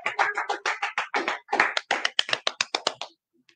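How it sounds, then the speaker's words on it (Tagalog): Audience applause for vloggers at a giveaway event, heard as a quick run of distinct, fairly close hand claps in an uneven rhythm that stops abruptly, with no talking over it. "palakpakan nyo yung mga bayani na to"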